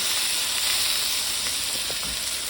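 A freshly turned cowboy ribeye sears in a hot pan with a steady, close hiss and sizzle that holds level for a couple of seconds, without any talking.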